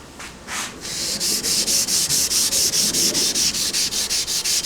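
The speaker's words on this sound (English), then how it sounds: "all I'm going to be doing to accomplish that is using a Scotch-Brite pad with my stick" A Scotch-Brite pad on a stick rubbed quickly back and forth over scratches on a knife blade, making a steady run of evenly spaced, close, scratchy strokes with no voices.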